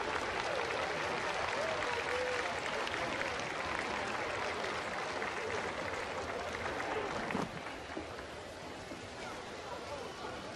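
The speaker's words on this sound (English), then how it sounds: "please give them a big round of applause" Spectators at the Sydney Royal Dog Show toy group applaud departing puppies, a distant, washy roar of clapping and crowd noise in a large arena that continues steadily, dropping slightly in level partway through.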